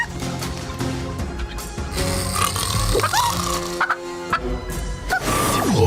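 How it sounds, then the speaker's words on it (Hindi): Cartoon hen that is secretly a spy robot, clucking and gobbling in bursts over busy background music and effects, close and fairly loud. "ये कोई आम मुर्गी नहीं है, ये मुर्गी के रूप में एक जासूस रोबोट है"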